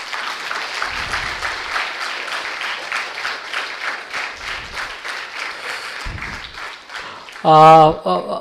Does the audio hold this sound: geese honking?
no